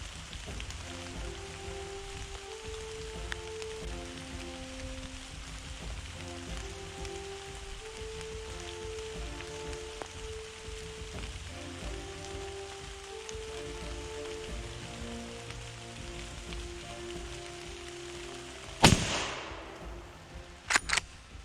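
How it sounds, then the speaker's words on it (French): Heavy downpour during a driven wild boar hunt, a steady close hiss of rain on surfaces under a tonal backing, broken near the end by a few sharp loud cracks. "malgré la pluie battante"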